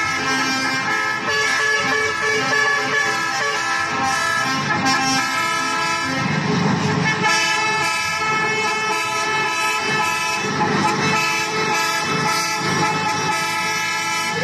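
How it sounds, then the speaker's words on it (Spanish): Heavy transport truck horns honking during a protest convoy through the streets of Santa Cruz, Bolivia, a loud, continuous overlapping blare of many horns with shifting pitches and bursts of engine rumble. "utilizando sus bocinas, transitaron por diferentes arterias de Santa Cruz"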